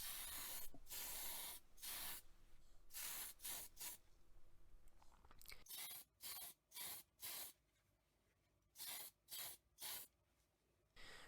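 Spray paint is applied to a Majorette Jeep Cherokee scale model in close, crisp hissing bursts, some long and some short, forming a rhythmic on-off pattern of sprays with quiet gaps between them.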